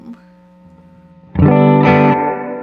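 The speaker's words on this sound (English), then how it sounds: "The X factor for the spring adds a gentle, warm overdrive to the reverb input, simulating overdrive in the spring tank." Guitar through a Walrus Audio R1 spring reverb pedal with the X factor overdrive engaged, a soft sustained note giving way to a loud, warm, overdriven chord that rings out with a long springy tail.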